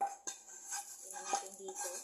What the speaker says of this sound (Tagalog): Ilalagay na natin siya sa plato.